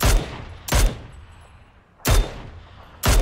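Four loud video game gunshots boom in an uneven sequence, each a sharp blast with a short tail, separated by stretches of quieter background.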